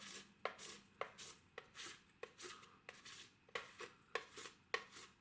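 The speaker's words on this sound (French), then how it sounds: "on va prendre le chocolat et on va le râper en morceaux" Chocolate grated into pieces for a lemon tart, heard as a steady series of close, crisp rasping strokes at a quick, even rhythm, with no talking.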